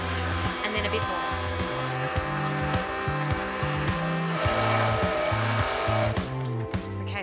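A blender blitzes extra virgin olive oil into mayonnaise, its motor whirring loudly and continuously, the pitch shifting and stuttering as the mixture thickens, heard up close.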